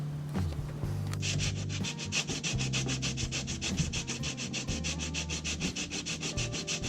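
Red paint being scraped or shaved off a metal part, a steady rhythmic rubbing with quick repeated strokes, close and fairly loud with no talking.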